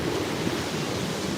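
Sea waves wash up onto a pebble beach at Cleveleys, a loud, continuous rushing surf with wind noise, close by and without speech.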